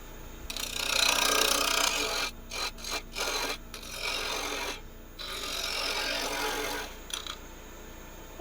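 Bowl gouge cutting wood on a spinning lathe while shaping a twig pot, a steady rasping scrape broken by several short gaps as the tool lifts off, close and fairly loud.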